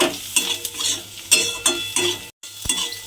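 A spoon stirs Maggi masala into a pointed gourd curry in a pan, with rhythmic scraping strokes over a soft sizzle and a brief pause before the stirring resumes.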